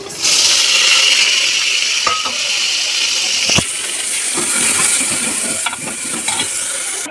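Chopped tomatoes and onions frying in a pan, a loud steady hiss and sizzle with occasional clinks and scrapes of stirring, close and continuous.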